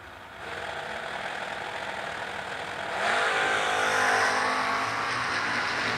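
Drag race cars launching down the strip at a motorsports event: a loud, steady engine roar that swells and grows harsher midway as the cars accelerate, with no talk.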